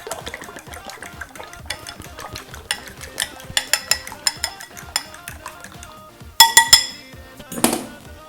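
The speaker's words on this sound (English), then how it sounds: "I've got 4 eggs. I'm going to beat them up." Four eggs beaten in a bowl with a utensil, a quick rhythmic series of clinking strokes against the bowl, close and fairly loud, ending in a few sharper, louder clanks.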